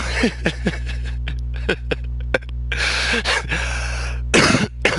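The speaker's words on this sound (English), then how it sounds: "excuse my cough" Several harsh coughs from one nearby man, a quick cluster early on, more scattered bursts later and a final loud hack near the end, over a steady electrical hum.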